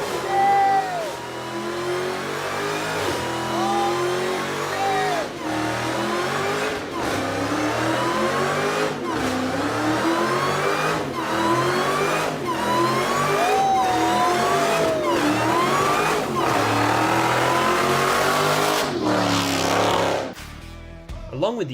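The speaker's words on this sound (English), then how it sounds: "use the red key that Dodge gives you to start it up, the Demon is powered by 840 horsepower" A Dodge Demon's 840-horsepower engine roars through repeated revs and accelerating pulls, loud and close with rising and falling engine tones, while a narrator talks over it throughout.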